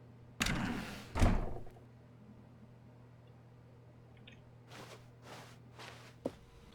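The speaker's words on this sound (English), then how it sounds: "When Stanley came to a set of 2 open doors, he entered the door on his left." Door and footstep sounds from The Stanley Parable video game, set in an office: two loud thuds near the start, then a softer run of several footsteps and a light knock later on, over a faint steady hum.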